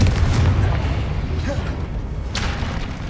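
A Confringo blasting spell goes off in Hogwarts Legacy, a deep booming burst with dull thuds at the start and a second brighter blast near the end, loud and close over rumbling game ambience with a voice present.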